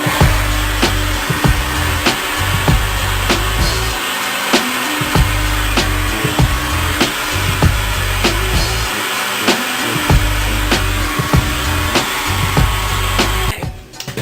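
A hair dryer fitted with a diffuser blows steadily while drying curly hair, a loud continuous whooshing hum with slight pulsing fluctuations that cuts off abruptly at the end.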